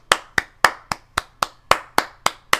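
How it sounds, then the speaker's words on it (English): Single sharp claps ring out at a steady, even rhythm of about four per second, loud and close and with no talk, at a convention where a guest is applauded. "Let's give him a round of applause."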